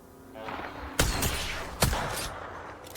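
Gunfire in a shooter video game, with two sharp, loud shots standing out over a steady rattling background of distant fire.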